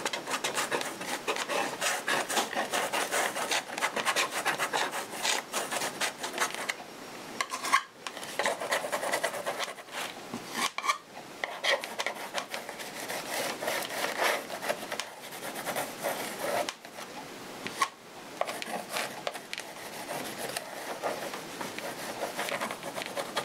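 A palette knife scrapes paint across a mixed media canvas in continuous rough, raspy strokes, close and fairly loud, broken by a few brief pauses and knocks, with no voices.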